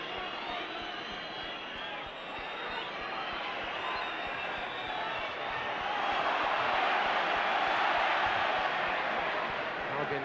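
Dense, steady roar of a large football crowd at a West Bromwich Albion v Liverpool match, swelling slightly louder toward the end, with no single voice standing out.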